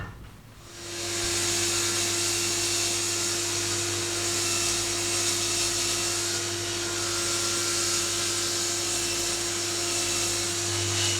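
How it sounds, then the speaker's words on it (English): A table saw spins up and cuts a strip with a 5-degree taper from wood, a loud steady whine with a strong humming tone held throughout. "I'm going to cut a strip with a 5-degree taper on it"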